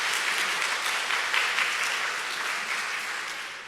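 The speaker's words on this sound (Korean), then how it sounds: "우리 목사님 사모님 다시 한번 박수" Applause from a church congregation for the pastor and his wife at an afternoon service, a dense steady clapping that fills the room throughout and fades slightly at the end.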